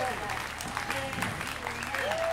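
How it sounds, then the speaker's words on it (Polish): Festival audience applauding in a steady, moderately loud round of clapping, with voices audible over it. "Kochani, wielkie brawa dla nich."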